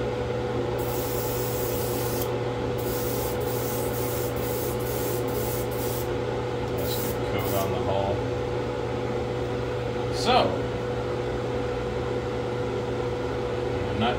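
An airbrush sprays primer onto a Tamiya 1/35 scale M3 Lee model inside a spray booth, giving short hissing bursts that start and stop over a constant low booth hum, with a single brief clack near the end.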